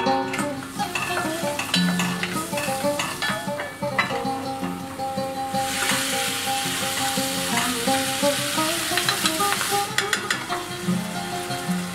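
Oil, garlic, onion and spices for chicken zurbian sizzle loudly in a pan while being stirred, a continuous close frying hiss with scraping clicks of the utensil.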